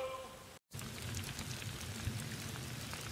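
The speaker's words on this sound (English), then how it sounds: "Starting to get rain." Steady rain falls around the vehicle, a dense even patter of drops on surfaces that carries on without a break apart from one brief dropout near the start.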